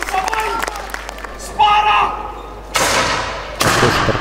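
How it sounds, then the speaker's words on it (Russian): Muskets fire during an open-day demonstration at Fort Saint Elmo, three sharp, loud blasts spaced about a second apart with lingering noisy tails, after a stretch of murmuring outdoor crowd sound. "Тоже стрельба уже из мушкетов."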